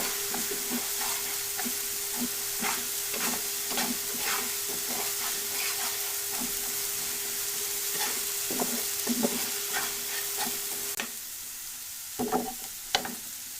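Spinach curry is stirred in a hot sizzling pan, rhythmic spoon scrapes over a constant hiss with a faint tonal hum, the sizzle thinning toward the end with a few sharp clinks.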